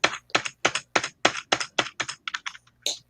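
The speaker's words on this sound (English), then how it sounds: "giving that keyboard some abuse" Rapid, forceful typing on a computer keyboard during a motorsport podcast, about a dozen sharp clustered key strikes in quick bursts, close and loud with no talking.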